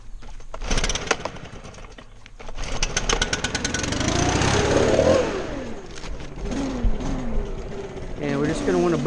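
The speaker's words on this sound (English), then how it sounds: "Last thing you want to do is get your leaf blower." A leaf blower's small engine runs with a loud rushing roar, revving up and down while blowing mulch, with a person talking intermittently over it.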